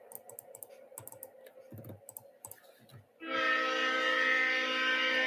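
Locomotive horn: after a stretch of scattered clicks and handling noises, a loud, sustained chorded blast starts abruptly and holds steady to the end.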